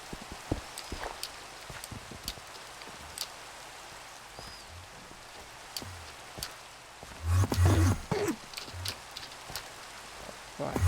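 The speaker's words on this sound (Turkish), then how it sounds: "Yağmur yağdı" Steady rain patters throughout in the Minecraft game, a constant hiss of drops with thuds and a louder burst of game sounds near the end; no talking.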